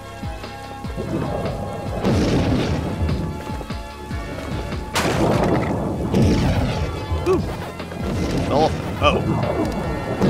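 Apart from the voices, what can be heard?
thunder in the video game Pac-Man World Re-Pac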